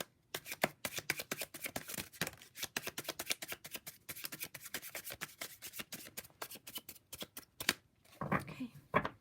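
Tarot cards being shuffled by hand, a long run of quick papery riffles and rubbing flicks in uneven bursts, close but quiet, with a soft voice now and then underneath.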